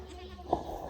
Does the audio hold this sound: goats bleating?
yes